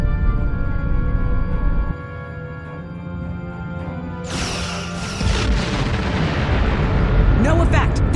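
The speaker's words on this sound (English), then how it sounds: "Target that ship, and fire all weapons!" Starship weapons firing in Star Trek Online, a sudden loud blast and crackling discharge midway, followed by further bursts over a low droning rumble and tonal hum of engines.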